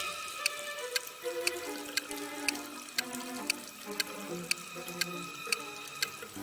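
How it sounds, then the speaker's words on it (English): Water runs from a wall faucet into a filling room, a soft steady trickle under a regular ticking beat, quiet and close with no voices. "You're trapped in a room that's slowly getting filled with water coming from a faucet on the wall."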